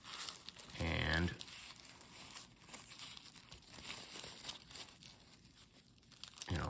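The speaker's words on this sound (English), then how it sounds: "let's observe the condition of the cellophane. It's crinkly" Old cellophane wrapping on a 1942 proof coin set gives a short, loud crinkling burst near the start, then softer crackles and rustles, and another crinkle at the end.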